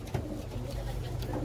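A pigeon coos softly inside a pigeon loft, a low murmuring call close by, faint and brief, with a voice speaking over it.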